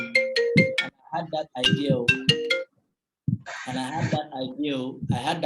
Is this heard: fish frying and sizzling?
no